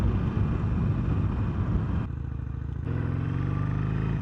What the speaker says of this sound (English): We're headed uphill on this Iron 883